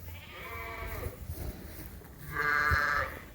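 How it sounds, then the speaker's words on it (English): Young Dorset ram sheep on a farm bleating, two close bleats about two seconds apart, the second louder, over faint outdoor background. "we weaned off some Dorset rams today"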